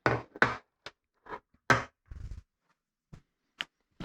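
Sharp, irregular knocks and taps against a Subaru EJ253 engine part as a seal is driven out, a handful of close, dry hits with short pauses between them.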